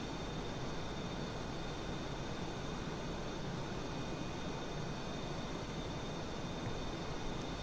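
A Super Hornet jet in a flight simulator game, a steady, even roar of engine and wind noise holding constant with no change in pitch or loudness, with no voices over it.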